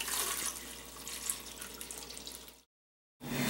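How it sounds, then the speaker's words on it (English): Water runs steadily into a jar while lemonade is being made, a soft close splashing stream that continues for a few seconds before cutting off abruptly, followed by a short burst after a gap. "Put water on the jar."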